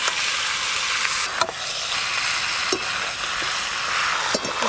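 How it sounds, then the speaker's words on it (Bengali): Chicken with ginger garlic paste and onions sizzles steadily in a pan while being stirred, with a few sharp scraping clacks of the spoon against the metal, loud and close. "এবার ওপর দিয়ে আদা রসুন বাটা দিয়ে সব কিছু একসঙ্গে ভালো করে কষে নেব যতক্ষণ না পেঁয়াজ গলে যায়।"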